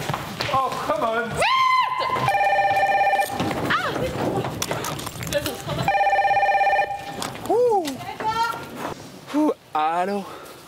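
A red telephone rings in the Secret Story reality show house, giving repeated electronic rings in two long bursts. Excited voices shout and talk over and between them.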